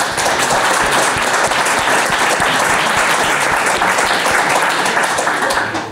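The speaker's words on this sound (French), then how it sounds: "je pense que ça mérite les applaudissements" An audience at the Transformer Digital of the Year 2019 award ceremony breaks into loud, sustained applause, a thick, continuous roar of many hands clapping that stays strong from start to finish.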